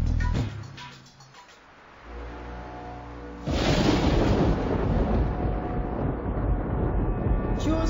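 Cartoon thunder in an animated Angry Birds pirate adventure: a storm scene where a low rumble builds, then a loud broadband crash of thunder bursts in and keeps rolling heavily to the end.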